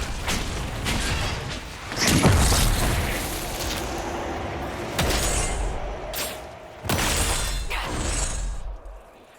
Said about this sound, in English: Exploding Mr. Bear.